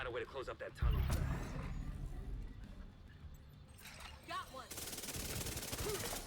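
Chatterbox SMG gunfire in The Division 2 video game, bursts of shots with a heavy low thump under ongoing talk and a rising rattle toward the end.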